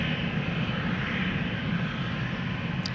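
A KLM Embraer 190 jet bound for London City at Amsterdam Schiphol produces a brief, steady engine roar, an even broadband drone heard alone without speech.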